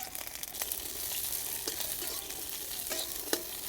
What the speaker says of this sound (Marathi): शेंगदाणे आणि मिरच्या खरपूस भाजून घेऊ